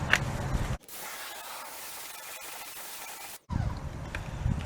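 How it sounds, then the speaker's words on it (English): A garden hose sprays water onto the tire of a Volkswagen Jetta MK6 during wheel cleaning. The spray is a steady, close hiss lasting a few seconds, with brief louder bursts just before and after it and no talking. "You always want to hose the tire down to get all the loose stuff off."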